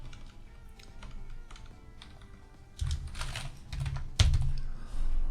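Typing on a computer keyboard at a desk, with irregular clicking keystrokes that grow denser and louder partway through and include one sharp, heavy key strike, close up and without speech.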